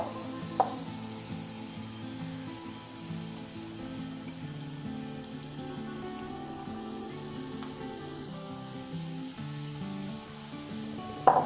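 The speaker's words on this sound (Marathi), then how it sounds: "मीडियम गॅसवर वडा तळायला घ्यायचा आहे" Batata vada frying in hot oil over a medium flame, giving a steady, soft sizzle and crackle that runs on without talk, with a couple of small clicks near the end.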